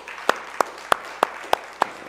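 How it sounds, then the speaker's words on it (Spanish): Church audience applause, heard as six evenly spaced sharp claps about a third of a second apart, fairly close and crisp over a quiet room. "Damos un aplauso."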